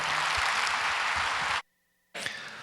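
A church congregation at a Korean Sunday worship service claps in a dense, steady burst of applause. The clapping breaks off briefly into near silence, then resumes.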